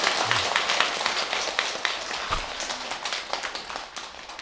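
An audience at a Buddhist monk's New Year dharma talk, marking the end of a winter retreat, breaks into steady, dense applause that gradually thins and softens.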